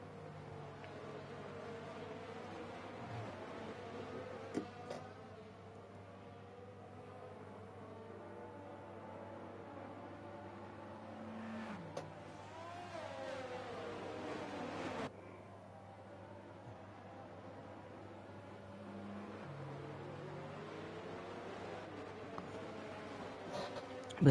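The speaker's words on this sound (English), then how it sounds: "the safety car as we wait for it to go around now" Safety car from a Bahrain Grand Prix round of a racing video game circles the track, its engine a steady low drone with gear shifts stepping the pitch, running continuously at moderate level beneath a faint background hum.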